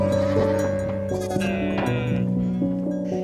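Goats in a tribal village bleat loudly and close by in a drawn-out, wavering call, with a second bleat answering under it.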